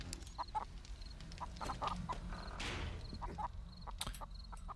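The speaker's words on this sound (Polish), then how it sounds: "Ja wiem, że te kury są denerwujące." Chickens in the survival video game 7 Days to Die cluck and squawk in short repeated bursts over a low game ambience, with one brief louder rushing noise in the middle.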